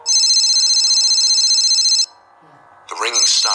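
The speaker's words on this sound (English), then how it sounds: "I heard a loud, muffled ringing coming from behind the wall next to the bed." A telephone rings, muffled behind the wall next to a bed in vacation lodging: a loud, steady electronic ring for about two seconds, then it cuts off, a short quiet pause follows, and a voice speaks.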